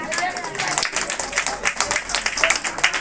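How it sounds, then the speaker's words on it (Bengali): Audience applause at an annual function of an institute in Nishchintapur, a steady patter of many hands clapping close by for about three seconds with no pause. "সকল একটা জোরে হাততালি।"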